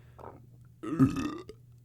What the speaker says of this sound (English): I'm gonna burp again.